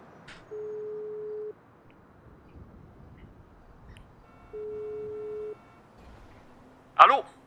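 Phone line ringing during a call in GTA RP: two long, steady ring tones separated by a pause over quiet background, followed by a short sharp click.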